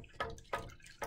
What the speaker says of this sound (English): rinse out my paintbrush really, really good